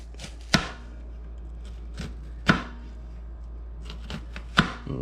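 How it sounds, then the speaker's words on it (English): A knife chops through an onion on a cutting board in three sharp, evenly spaced strikes, with faint fainter taps between them, close and clear with no talking. "seeing where this last layer of the onion comes across, we're going to try to cut as close to that as we can without going all the way through it"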